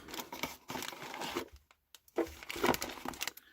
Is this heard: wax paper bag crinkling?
yes